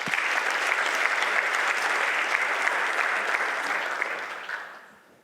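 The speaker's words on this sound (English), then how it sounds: "So please join me in giving a warm applause for Martin." Warm audience applause at a tech event in Berlin, a dense, steady wash of clapping from a crowd that holds evenly, then fades out over the last second.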